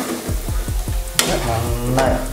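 Egg bondas frying in hot oil, with close, loud sizzling under several knocks and clatters of a utensil against the pan and a sharp splash partway through.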